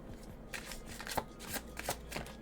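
A deck of tarot-style cards being shuffled by hand close up, a quick run of crisp riffling flutters and soft slaps in an otherwise quiet room.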